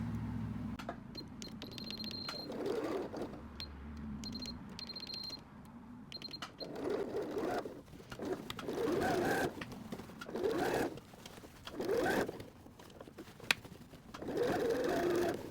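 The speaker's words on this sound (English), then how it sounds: "So now I switched over to a zigzag stitch. I did a broken zigzag, so I'm gonna go back and forth over this." Sewing machine running a broken zigzag stitch back and forth over a mended patch, close bursts of rapid mechanical whirring starting and stopping in an uneven rhythm, with lighter clicks and handling between runs.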